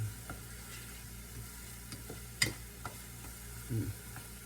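Garlic and mixed vegetables sizzle softly in a pan, a steady low frying hiss with a few faint clicks of stirring, fairly quiet and heard alone.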